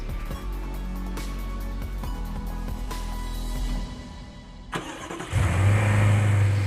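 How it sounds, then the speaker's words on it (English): A BMW X6 xDrive50i petrol engine rated at 450 horsepower idles with a low rumble, then fires up loudly and revs near the end, with no talking. "You are listening to the pinnacle of the all-new BMW X6's petrol engine range, the xDrive 50i."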